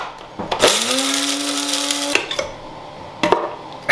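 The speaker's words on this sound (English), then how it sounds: "Spice grinder works pretty well for this." A spice grinder whirs through a batch of granulated lime in one loud, steady burst of about a second and a half, starting and stopping abruptly, with faint handling knocks before and after.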